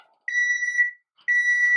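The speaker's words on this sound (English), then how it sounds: "my new oven is beeping at me, so I guess it's done" A new kitchen oven's timer sounds when a batch of brownies finishes baking: two long, steady electronic beeps, close and clear, separated by a short pause.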